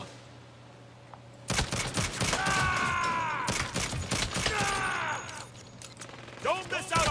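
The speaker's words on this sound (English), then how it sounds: "Stop shooting me." Rapid bursts of automatic gunfire in the Saints Row video game, dense overlapping shots with ringing metallic tails and mechanical clatter, loud and sustained after a quiet start, with a voice talking over parts of it.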